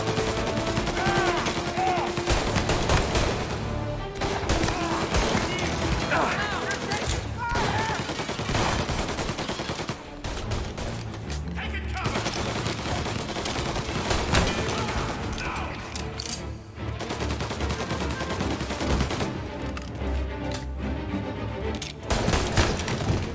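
Gunfire in the Mafia Definitive Edition video game, with dense, rapid volleys of shots and booming impacts overlapping continuously, loud and chaotic for over twenty seconds with brief lulls.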